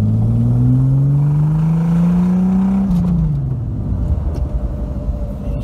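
A VW VR6 car engine, driven hard, revs up loud and close in a steadily climbing whine for a few seconds, then drops off abruptly into a rougher, lower rumble.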